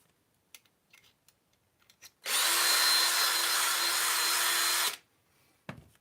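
A power trimmer cuts a brass cartridge case for reloading in one loud, steady whir lasting a few seconds, set between soft clicks and small handling noises at the bench.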